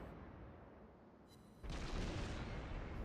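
Citadel shell hit on a warship in a naval combat game: a quieter rumbling bed, then a sudden heavy boom that rolls on as a broad, sustained roar, no voices present.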